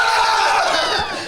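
A crowd cheers and yells in a loud, dense burst of many voices, close and sustained, tapering slightly at the end.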